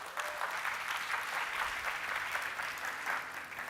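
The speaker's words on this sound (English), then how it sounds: "give a round of applause for everyone who shows up for a 5:30 p.m." Steady, dense applause from a conference audience at an evening tech talk, continuous hand-clapping filling the room for several seconds without speech.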